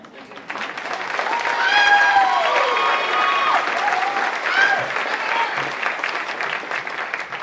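Loud, sustained applause and cheering from a gala audience at a teacher of the year celebration, with a voice rising over the crowd noise now and then.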